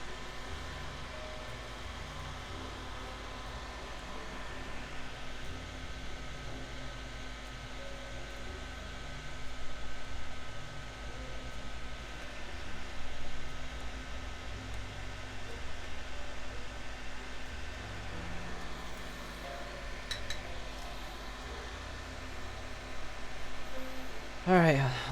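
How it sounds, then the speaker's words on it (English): An electric fan runs steadily in a room throughout, a constant close whooshing drone with faint tonal hum and slight swells. "So sorry about the fan,"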